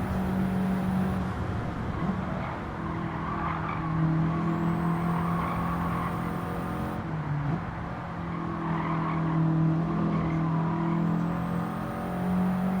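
A turbocharged car slides during a Nurburgring time-trial lap in Gran Turismo 7, its tires squealing in long, sustained skids over a steady engine drone, the screech swelling and fading twice.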